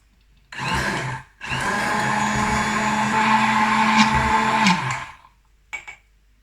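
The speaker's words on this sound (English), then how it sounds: "And then I'll blend it with my Bamix stick blender." A Bamix stick blender whirs steadily and loudly for several seconds blending homemade soy mayonnaise, briefly stopping once before resuming, then cuts off with a short buzz at the end.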